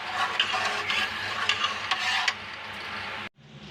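Lahori chikar cholay being stirred and mixed with fresh mint and coriander, a steady close scraping and soft sizzling with brief clinks, stopping abruptly near the end.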